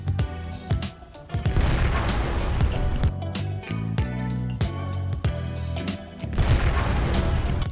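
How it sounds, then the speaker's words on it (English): Heavy booming vehicle explosions in the video game Planetside 2, in rapid succession, deep rumbling blasts with crackling debris, mixed with sharp bursts and sustained low roaring. "And of course, vehicle explosions."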